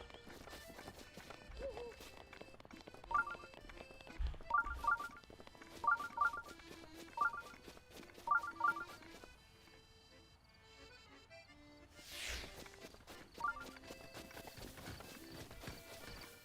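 Rhythmic horse hoofbeats in Zelda: Breath of the Wild sound in short bursts, mixed with electronic game tones and chimes, moderately loud, with a brief whooshing effect near the end.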